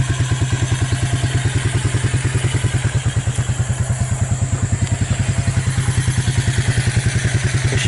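A Suzuki KingQuad 300 ATV engine idling after a Mikuni to Keihin clone carburetor conversion: a loud, steady, rapid thumping beat that holds an even rhythm throughout, close up with no talking.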